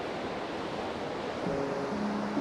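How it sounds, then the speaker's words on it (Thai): Steady broadband rush of a stream flowing in Germany, continuous and even, running close by, with a faint tonal hum creeping in near the end. "เป็นลำธารที่ ที่ไหลเชื่อมกัน หลายเส้นนะคะสองเส้น"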